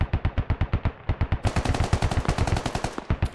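Rapid automatic gunfire rattles out during a firefight in the game SquadOps, a long run of sharp, evenly spaced shots that grows louder and denser partway through, with no talk.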